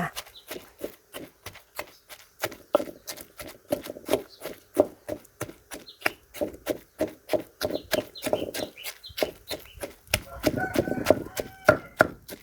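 Fresh shrimp and tamarind being pounded with chilies in a mortar for a Thai Isan dip, steady thudding pestle strikes repeating at a quick even rhythm, close and fairly loud, with a brief stretch of faint talk near the end.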